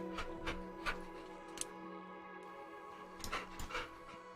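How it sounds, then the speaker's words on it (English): Dogs scuffling somewhere in the background, with a few scattered yelps and barks at moderate distance over a steady room hum, no talking. "my dogs are fighting in the background"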